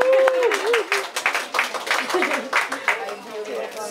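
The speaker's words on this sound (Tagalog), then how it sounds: "Palakpak naman siyang pampagana" Audience applause and clapping at a Filipino film press conference, a dense patter of hands filling the room with a voice speaking over it.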